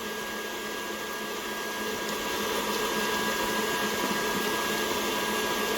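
An old stand mixer whips Swiss meringue buttercream made with fresh strawberries, giving a steady, loud motor whir with broadband hiss that swells slightly partway through and runs alone with no talking.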